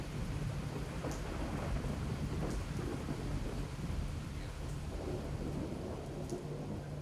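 Steady heavy rain pours down at a deer camp on a southwest Texas ranch, with low rumbles of thunder rolling beneath it throughout.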